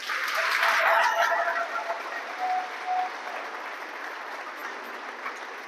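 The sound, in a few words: audience applause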